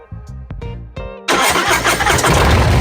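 A Harley-Davidson motorcycle engine in neutral cranks in several short starter bursts, then catches and settles into a loud, steady idle close by.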